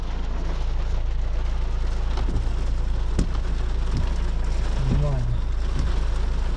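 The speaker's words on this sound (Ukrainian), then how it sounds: "І то такий сильний дощ ще під вітром." Heavy rain driven by wind while driving, a constant hiss of rain drumming on the car with a deep engine rumble underneath and occasional sharp knocks, plus a brief voice partway through.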